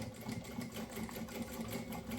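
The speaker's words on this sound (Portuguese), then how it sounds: "E vou costurar até encontrar outra costura que eu tinha feito previamente." Sewing machine stitching fabric for an organizer, a steady rapid mechanical whir and needle clatter running continuously at close range with no voices.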